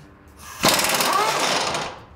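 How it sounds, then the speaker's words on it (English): An impact wrench spins off subframe bolts on a Honda S2000, a loud sustained rattling burst that kicks in abruptly and runs steadily for over a second before easing. "Carla's gonna do now is gonna be removing six bolts on the subframe"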